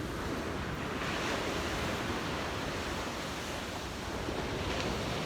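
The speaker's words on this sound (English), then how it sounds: "Some good waves usually out the front of the Sheridan." Ocean surf rolls in on a Gold Coast beach at sunrise, a continuous broad wash of breaking waves with some wind noise, steady and moderately distant, with no voices.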